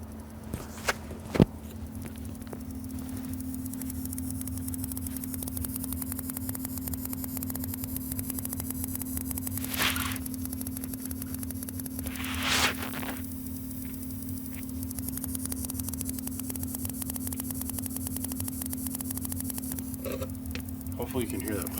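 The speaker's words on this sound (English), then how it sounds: "I can hear one of these power supplies is making some funky fucking noises." A faulty power supply in an amplifier repair gives off a steady mains-like hum with static, broken by a few sharp pops early on and later crackly bursts, all close and continuous.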